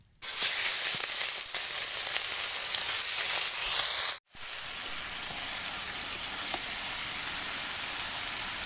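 Meat dropped into hot oil with cumin and spices for a chicken curry sizzles loudly, a bright steady hiss that cuts out briefly midway and then resumes at a slightly lower level.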